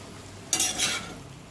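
Spiced chapati noodles with egg and vegetables are tossed in a pan, making one short scraping, sizzling stir of about half a second that stands out from a quiet background.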